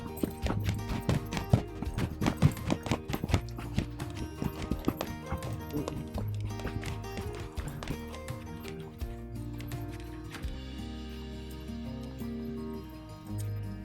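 Rhythmic hoofbeats of a gaited horse trotting clop steadily over background music, loud and close at first, then fading under the music.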